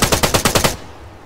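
Automatic gunfire in the military shooter Arma 3, six rapid, evenly spaced loud shots in a short burst that then cut off into a low fading tail.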